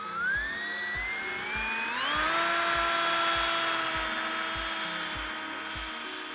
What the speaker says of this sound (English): So we're going to go ahead and drill in.